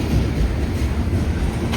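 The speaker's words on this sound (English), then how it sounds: "Now we got some mixed freight." A mixed freight train rolling past trackside at New River Junction, a steady, loud rumble of wagons with low rail noise filling the whole moment, nearby and without talk.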